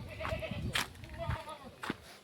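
Goats bleat in short, close calls at a village farmhouse yard where bullocks were once kept, with a person talking over the animals.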